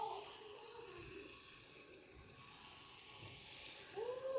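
Tap water runs steadily into a sink while a front lace wig is rinsed after bleaching its knots, a soft, even splashing flow with a brief louder gush near the end.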